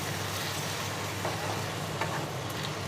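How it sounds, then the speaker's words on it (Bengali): Spice masala of turmeric and chilli powder is stirred with a splash of water in a hot pan, a steady close sizzle with faint scraping from the stirring and no talking. "জল দিয়ে মশলার সঙ্গে নাড়িয়ে নেব।"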